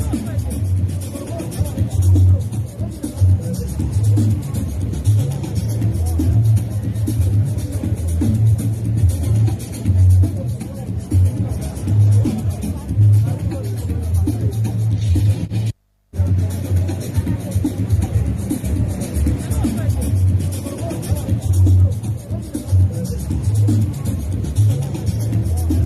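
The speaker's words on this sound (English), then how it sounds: "The protesting ground there, the sound you're hearing, that's what is happening." A large street protest crowd keeps up a steady roar of chanting and shouting, with traffic noise mixed in and a momentary dropout midway.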